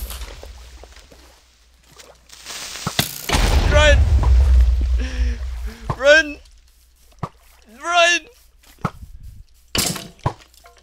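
Minecraft explosions during a castle battle: a deep, loud boom rumbles for about two seconds, with sharper bursts and cracks later, mixed with excited voices talking and shouting.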